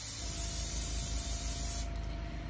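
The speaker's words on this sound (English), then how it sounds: "I'm showing you this whole process just to show you that it don't take that long to clean your airbrush out." An airbrush sprays steadily during cleaning, giving a close, constant hiss that softens slightly near the end, with no talking.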